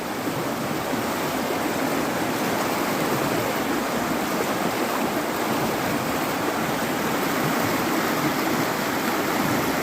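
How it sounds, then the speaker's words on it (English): A high-flowing mountain stream in the Appalachians rushes in a loud, steady, close roar, with no voices over it. "So y'all can see how high the water is right now."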